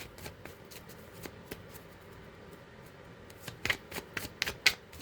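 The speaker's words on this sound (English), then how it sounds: "Get a good shuffle." A deck of tarot cards being shuffled by hand, a series of soft riffling bursts and taps that grow louder and sharper toward the end, close and quiet, no voices.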